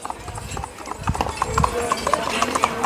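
A horse from a Sikh Dal Panth Tarna Dal stable walks with a clear, rhythmic clip-clop of hooves, close by, while people talk over it.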